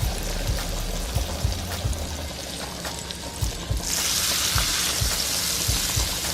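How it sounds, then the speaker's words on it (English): Butter and shrimp in a saute pan: a steady, close hiss of sizzling that swells louder partway through, with soft regular ticks beneath. "Drop our 2 tablespoons of butter on in our saute pan so we can get this shrimp on and popping."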